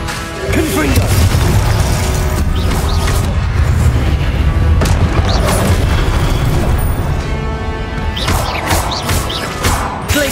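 Confringo blasting spells exploding in Hogwarts Legacy during the Charles Rookwood Trial: a run of loud booms and crashing blasts, one after another, over dense, continuous game sound.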